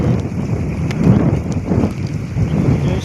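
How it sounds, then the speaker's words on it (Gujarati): Gusty wind buffeting the microphone with a low rumble, with faint scattered ticks of light rain, in Gundala village, Vinchhiya taluka, Rajkot district, Gujarat. "પવન પણ સાથે છે વરસાદ પણ આવી રહ્યો છે"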